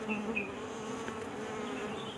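Honeybees buzz around a hanging hive box, a steady, close, continuous drone with a few higher whines from individual bees passing near.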